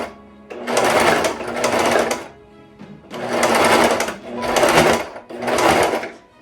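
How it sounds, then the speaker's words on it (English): A sewing machine stitches a three-layer fabric mask with elastic, running in four loud, close bursts of rapid mechanical whirring separated by short pauses, with no talk. "I lower the presser foot and I like to tug on the elastic and guide it through"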